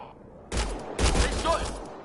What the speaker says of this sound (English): They shot him!